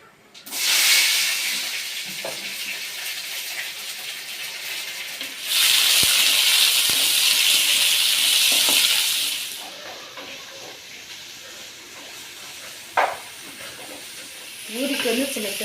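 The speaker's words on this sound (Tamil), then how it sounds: "பட்டை நல்லா பொரிஞ்சிருச்சு வெங்காயம் பச்சை மிளகாய் ரெண்டையும் சேர்த்துக்கிறேன்" Onion and green chili hit a pan where cinnamon has been frying, giving a loud sudden sizzle that later swells again into a strong hiss, with a few stirring clinks between bursts, close by and with no talking.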